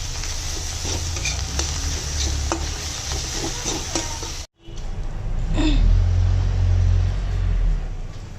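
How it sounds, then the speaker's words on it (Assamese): Chopped onions fry with turmeric and salt in a pan for a sour fish curry, a constant sizzle broken by repeated stirring scrapes, briefly cut off midway before the sizzling resumes louder. "এইখিনি ভালদৰে ভাজি ল'ম"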